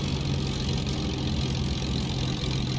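The engine of an Aeroplaneheaven Spitfire Mk1A in Microsoft Flight Simulator runs steadily at a low throttle, a loud, even, droning hum with a strong low tone that holds unchanged throughout.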